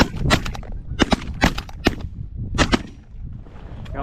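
Shotgun blasts fired at geese during an early-season goose hunt, several sharp reports in irregular bursts close by, with some shots overlapping and echoing across open ground.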